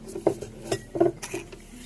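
Glass pieces of a laboratory vacuum filtration apparatus, a glass filter and connector, clink and knock together in a few light, close taps and scrapes while handled, quiet and irregular.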